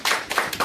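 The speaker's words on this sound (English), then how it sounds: "I'd like to give a huge round of applause to Fisher Harris" A small class claps for a classmate in a short, dense burst of applause that swells and dips in quick waves, close and fairly loud, with no talk over it.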